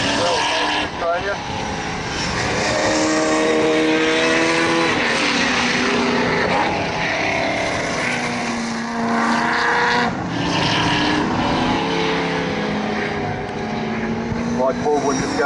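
A 7.5-litre V8 muscle car driven by Mike Baldwin roars past at Levels Raceway in Australia, its loud engine note rising and falling as it passes, while a commentator talks over it.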